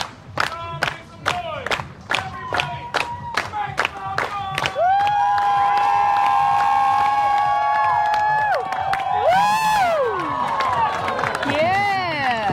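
Crowd at Pier 39 clapping in a steady rhythmic beat of about a dozen sharp claps, then breaking into loud sustained cheering and whooping voices that rise and fall.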